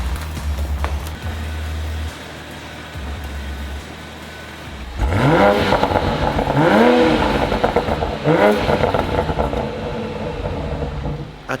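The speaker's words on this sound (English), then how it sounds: "Actually sounds pretty nice as a standard car." A car engine idles low, then revs up in several rising, roaring bursts, loud and close.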